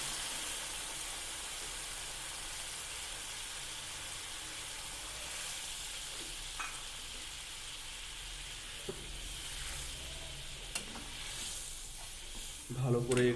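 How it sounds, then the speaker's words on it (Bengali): Hilsa fish cooking with mustard paste in a pan, a soft steady sizzle with faint stirring scrapes and a few clinks near the end. "এরপরে আমরা সর্ষের দিয়ে একটু ভালো করে নেড়ে নেব।"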